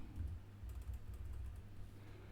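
Code typed on a computer keyboard while building a React portfolio with Tailwind CSS, a steady run of soft, close key clicks over a low background hum with no talking.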